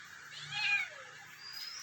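A small kitten gives a single thin, drawn-out meow, faint over steady background hiss, while it demands fish.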